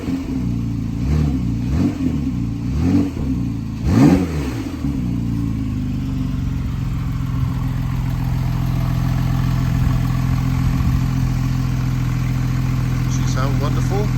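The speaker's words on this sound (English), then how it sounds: "Put on sports exhaust. There you are, sports exhaust." A 2017 Porsche 911 Carrera 3.0-litre twin-turbo with sports exhaust gives a few sharp revs, then settles into a deep, steady idle close by, with someone speaking briefly at the start.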